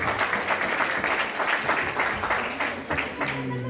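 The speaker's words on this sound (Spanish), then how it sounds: "Un aplauso al Señor, alabado a Cristo." Applause for the Lord during a church service, a brisk, fairly dense patter of hands from the congregation, with scattered voices mixed in and a brief tonal sound near the end.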